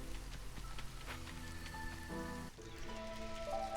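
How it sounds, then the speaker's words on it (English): Steady rain falls in the Against the Storm city-building game, a continuous soft patter under tonal game music with shifting chords, no talking. "It still rains. It never stops raining."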